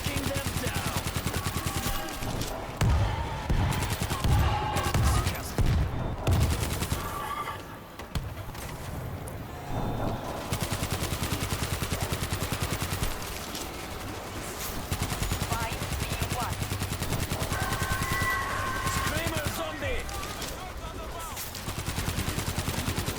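Dense, continuous gunfire from the zombie shooter World War Z, played on the Moscow mission at Extreme difficulty with the Gunslinger class, crackling in overlapping rapid bursts with barely a pause.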